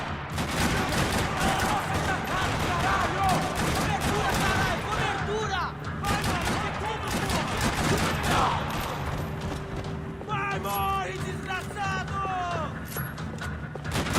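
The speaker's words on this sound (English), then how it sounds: "Another parking lot rattling with gunfire." Rapid bursts of automatic gunfire and single shots crackle across a parking lot in the video game Max Payne 3, dense and loud throughout, with shouted voices mixed into the firefight.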